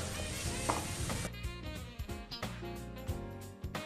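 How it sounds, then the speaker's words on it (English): Freshly crushed garlic sautés in hot oil in a pan, a steady close sizzle with occasional stirring clatters and scrapes. "25 to 30 garlic which I have just crushed. And we'll just saute this for 2 to 3 seconds."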